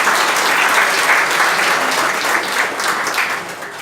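A church congregation applauds in a hall decorated for Christmas, with loud, dense, sustained clapping that fades slightly toward the end and no voices over it.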